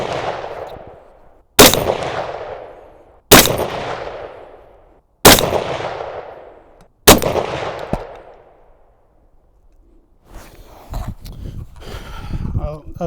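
A suppressed Ruger SFAR rifle fires five sharp, evenly spaced shots outdoors, each followed by a fading rumble, then softer shuffling and handling noises afterward.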